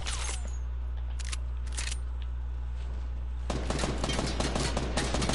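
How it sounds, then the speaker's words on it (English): Video game gunfire, a few sharp isolated shots followed by a dense rapid burst of automatic fire, heard over a steady low hum. "How is he even shooting me?"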